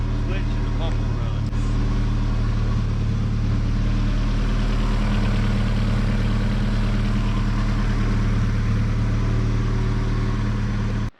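Turbocharged Honda B-series engine idles steadily in a time-attack Civic EG, a close, continuous low rumble with a faint whine on top, running throughout with no clear talk over it.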